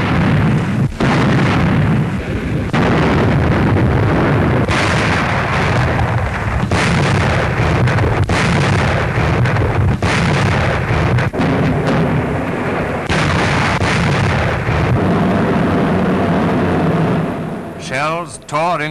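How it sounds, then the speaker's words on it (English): Heavy WWII naval shelling and aerial bombing of the Italian defenses on Pantelleria island: continuous loud thundering blasts and booming explosions overlap densely throughout, with a narrator speaking over the barrage. "Shells tore into the Italian defenses while bombs hurtled down by the ton."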